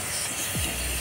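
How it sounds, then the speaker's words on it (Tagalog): A short burst of hissing from a leaking air conditioning system with a compressor issue, a brief steady hiss rising over background noise, near and moderate in level. "Ba't may singaw to?"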